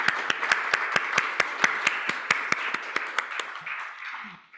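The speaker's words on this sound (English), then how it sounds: "let's give everyone a round of applause first." A small audience at a health equity conference session claps for the presenters, with distinct, regularly spaced individual claps standing out over softer scattered applause before fading away.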